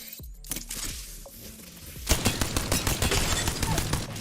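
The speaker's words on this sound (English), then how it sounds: "Rampage shoots pretty slow, so I'm not so good with it" A Rampage light machine gun fires in Apex Legends, a slow, heavy run of evenly spaced loud shots starting partway in, after quieter game sounds.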